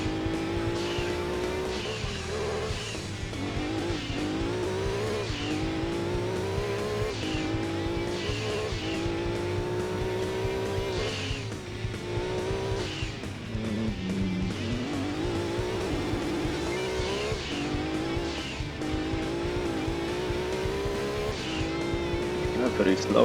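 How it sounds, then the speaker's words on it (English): A Suzuki Cultus rally car in Gran Turismo 2, running a rally event such as Tour de Tahiti or Pikes Peak, drones with a loud, continuous engine whose pitch keeps rising and falling through gear changes, with occasional tire noise. "I ain't a good driver in Gran Turismo 2 and this Suzuki Cultus is no joke."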